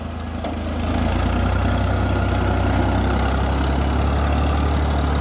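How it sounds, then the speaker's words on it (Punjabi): Tractor engine running in a field in Punjab, Pakistan, a steady low idling rumble that rises slightly in the first second and then holds constant and close. "ਬਾਰੋਂ ਬਾਰ ਘੁੰਮੇਗਾ ਟਰੈਕਟਰ ਪੂਰੇ ਖੇਤ ਦੇ"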